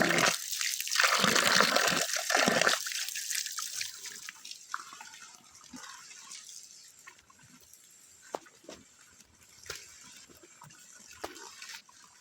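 Soiled cucumbers are washed in water: splashing and running water loud at first, then quieter drips and trickles with occasional clunks.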